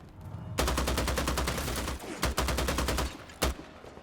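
Automatic gunfire in the vampire battle-royale game VtM Bloodhunt: loud, rapid bursts of shots, a long sustained string, then a short break and more bursts, ending with a single heavy shot.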